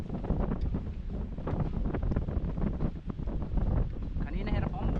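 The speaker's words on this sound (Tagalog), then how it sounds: "Ang problema malakas ang hangin." Strong wind roaring steadily across a small paddled boat out on the water in stormy, typhoon-like weather, buffeting the microphone throughout with broadband rumble while someone talks over it.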